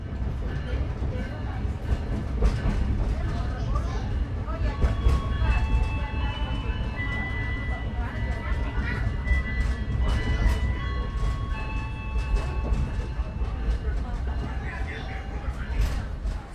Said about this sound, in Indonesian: Kereta api Arjuna Express yang saya naiki telah tiba di stasiun Sidoarjo.